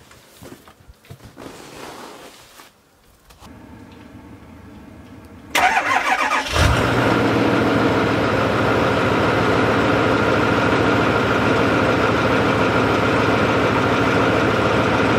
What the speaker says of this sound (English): I don't think I've started the truck in probably a month, so start it up here and let it run 15 or 20 minutes.